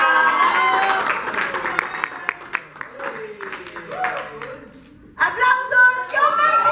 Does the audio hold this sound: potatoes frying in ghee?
no